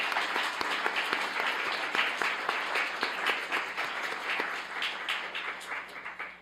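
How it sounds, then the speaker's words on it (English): An award ceremony audience at a science and literature event breaks into steady applause, dense and continuous clapping from many hands filling the room for several seconds, with no talking over it. "Please join me in giving our committee a round of applause."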